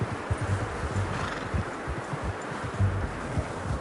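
Horse in the open-world video game Red Dead Redemption 2, soft hoofbeats and movement under a steady wash of wind and rustling outdoor ambience, with no talking.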